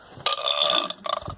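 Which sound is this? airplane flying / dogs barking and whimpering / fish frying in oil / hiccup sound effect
hiccup sound effect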